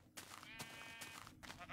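Minecraft sheep bleat in a few short, wavering calls separated by brief gaps, fairly quiet and close.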